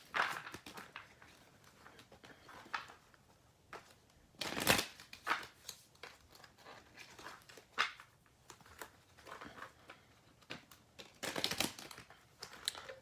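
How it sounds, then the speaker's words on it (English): Quick papery riffles and soft slaps of tarot cards being shuffled, in short bursts with pauses between, close by and fairly quiet. "I'm just going to shuffle the cards on camera."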